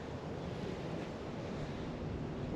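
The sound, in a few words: wind at Coldrum Long Barrow stone circle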